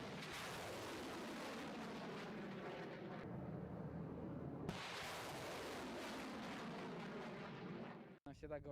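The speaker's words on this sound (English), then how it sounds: "Now we can see the Smerch firing." Smerch multiple rocket launcher firing rockets, a sustained loud roaring rush with a sharp break midway as another launch roars in, continuous and broadband, ending abruptly.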